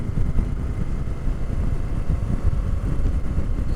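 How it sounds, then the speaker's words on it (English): A 2025 Indian Super Scout Limited motorcycle's exhaust burbles softly and steadily at low revs, a muted, even rumble with no voices. "It's a pretty quiet exhaust too."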